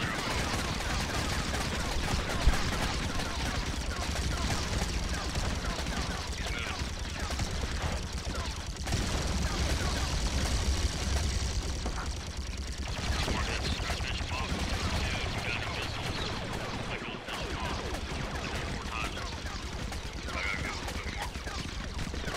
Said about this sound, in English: Machine gun, machine gun, machine gun.